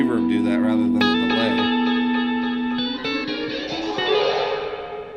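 Meris MercuryX reverb pedal with the pre-delay turned down, giving a chorus-like wobble to sustained guitar tones that swell and smear into a bright, loud wash.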